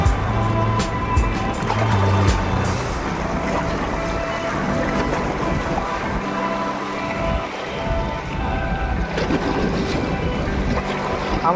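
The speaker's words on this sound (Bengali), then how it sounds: "খুব সুন্দর, একটার পর একটা ঢেউ আসছে" River waves near Farakka roll in one after another, a loud, close, continuous wash of water with gusty wind buffeting the microphone.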